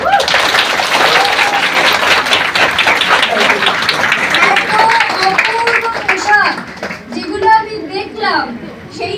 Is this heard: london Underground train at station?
no